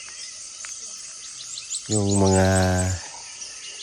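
Birds and crickets chirp steadily in a countryside forest, a faint high-pitched chirping bed running throughout, briefly overlaid by a voice speaking near the middle.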